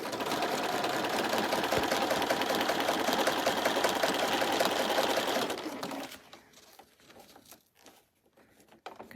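A sewing machine runs steadily and loudly for about six seconds while a unicorn-pattern bag is sewn, then stops, leaving only faint handling noises.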